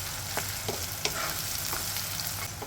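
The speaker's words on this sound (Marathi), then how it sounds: "हे बघा आपले टोमॅटो किती छान परतून राहिले" Onion and tomato sauté in a pan, giving a loud, steady sizzle with a few soft scraping stirs of a spoon close by.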